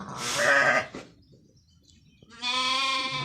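Two loud, wavering bleats from thin sheep close by, separated by a quiet pause.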